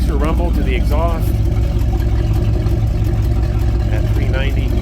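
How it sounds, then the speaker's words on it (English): A 1964 Ford Galaxie 500 convertible with a 390 V8 gives a steady, deep exhaust rumble that runs loud and continuous throughout, with faint talk over it in places. "So a little bit of extra rumble to the exhaust"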